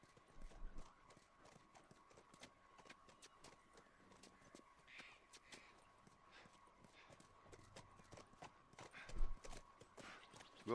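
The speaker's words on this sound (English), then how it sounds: "Where I need the gallop of the horse." A horse gallops in the video game The Last of Us, quick clip-clop hoofbeats running steadily throughout at moderate distance, with a few louder thumps and faint talk underneath.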